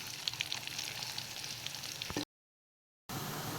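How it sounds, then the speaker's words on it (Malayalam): Garlic sizzles in hot oil while being stirred for a spicy prawn pickle, a close, steady crackling fry that cuts out abruptly for almost a second before resuming. "ഇതൊന്ന് വെളുത്തുള്ളി ചെറുതായി ഒന്ന് മൂത്ത് തുടങ്ങുന്ന വരെയായിട്ട് നമുക്കിത് ഇങ്ങനെ ഇളക്കി കൊടുക്കാവുന്നതാണ്"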